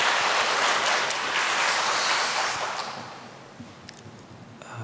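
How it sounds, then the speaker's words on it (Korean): A church congregation applauding together during a Wednesday service, loud dense clapping that gradually fades out toward the end. "우리 격려의 박수 보내드리겠습니다."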